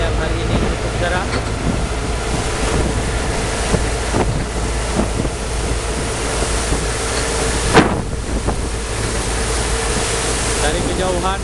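Aboard a passenger ship in the Indian Ocean off Aceh in clear weather, a constant engine drone blends with waves washing past and heavy wind buffeting the microphone. A sharp knock stands out near the end, and voices are faintly present.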